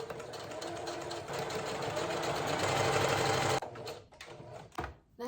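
A sewing machine hems across the sides of pieces of fabric. It runs at a steady, fast stitching whir for several seconds, then stops and gives a few short, slower bursts.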